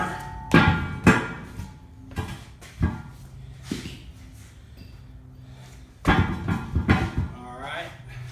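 A hammer strikes a tire several times to break the bead off the rim, sharp close thuds arriving in irregular bursts with pauses between them.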